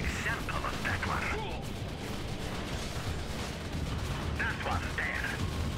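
Steady gunfire in Command & Conquer: Red Alert 3 pounds the giant King Oni unit during a base battle, a dense rumble of shots and impacts running beneath someone talking.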